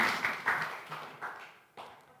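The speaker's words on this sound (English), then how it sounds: "Let's give him a round of applause." Audience applause at a live breathing and NLP workshop session, a few bursts of clapping that fade and pick up again, fairly near, with some talk mixed in.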